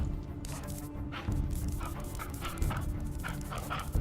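A dog in the medieval strategy game Crown Wars: The Black Prince gives a few quiet, scattered barks and yips over a low background hum, faint and without talk.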